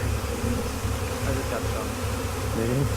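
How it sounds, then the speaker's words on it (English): Dense, continuous buzzing of many bees swarming close by, a steady droning hum with pulsing wingbeat texture and no talking. "I didn't realize we were getting swarmed by bees this morning."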